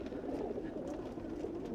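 Racing pigeons coo in their trays on a truck at night in China, a dense, continuous murmur of cooing over a steady low rumble.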